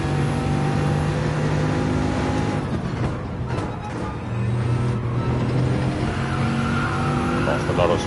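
A De Tomaso race car in Gran Turismo 7 laps Monza, its engine droning steadily and shifting pitch through corners and gear changes. Someone speaks over the continuous game audio.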